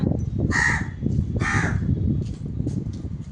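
Two loud, harsh crow caws ring out close by, followed by fainter calls in the distance over outdoor background noise.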